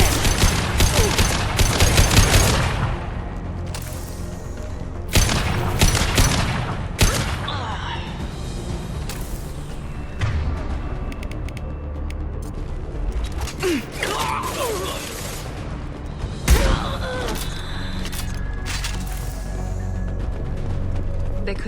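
Mass Effect 2 combat with gunfire and a concussive shot, dense mechanical rattling bursts and sharp impacts, loudest at the start and easing into intermittent clanks and shots.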